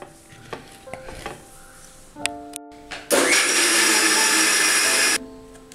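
A blender whirs loudly and steadily for about two seconds, mixing chilled vanilla custard into a milkshake, after brief kitchen clinks and a short pause; it stops abruptly.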